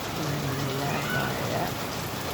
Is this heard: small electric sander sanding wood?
no